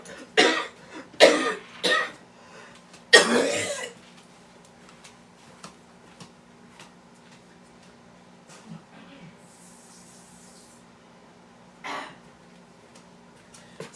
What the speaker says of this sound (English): Excuse me, I still got my cough.